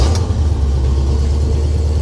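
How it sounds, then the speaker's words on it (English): A 1965 Pontiac GTO convertible engine idles after a cold start, a loud, close, steady low rumble with no talking. "I'm gonna get in it and cold start it real quick."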